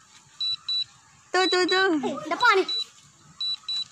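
DJI Phantom 3S drone controller sounding its signal-loss warning, short paired high beeps repeating at intervals, with people talking nearby in the middle of the sequence.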